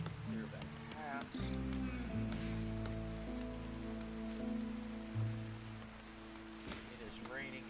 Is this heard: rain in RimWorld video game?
yes